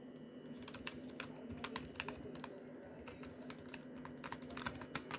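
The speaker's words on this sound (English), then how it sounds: "I'll give you guys a little typing test." Steady typing on a modded Langtu membrane keyboard, with a fast stream of close, muffled keystrokes in an even rhythm and a few sharper clacks mixed in. No voices.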